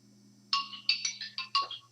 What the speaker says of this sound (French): il y a mon téléphone qui fait du bruit